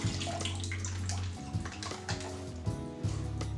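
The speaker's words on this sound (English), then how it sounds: "it's already packed in water, and I'm just going to go ahead and drain this water out." Packing water pours out of an opened tofu package into a sink in short gurgling splashes and trickles, close up and fairly quiet, with brief pauses between pours.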